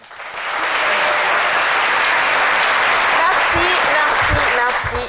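An audience breaks into loud, sustained applause that swells quickly, holds steady, then begins to taper off at the end.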